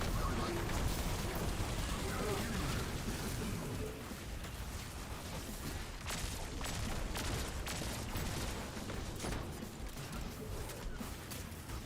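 Combat in the video game Destiny 2 with a grenade going off amid gunfire, a dense, continuous roar of shots and blasts, fairly loud throughout with no clear break.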